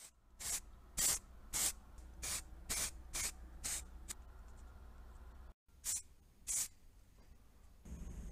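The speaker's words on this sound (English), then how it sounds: "I finished spraying the clutch master cylinder" Short bursts of an aerosol spray can hiss in a steady rhythm, about a dozen quick sprays with a brief pause partway through, spray-painting a car's clutch master cylinder.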